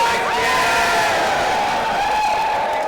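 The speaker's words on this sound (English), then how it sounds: "You did an amazing cheering job." Supporters at a #FixTheMTA press conference at the New York State Capitol cheer and whoop loudly, a continuous crowd roar with high shouted voices sustained across the whole stretch.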